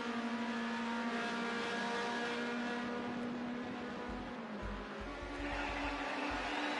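A racing car's engine revs loudly on a track, a sustained high whine with shifting pitch, followed by deep low pulses as the car passes close by.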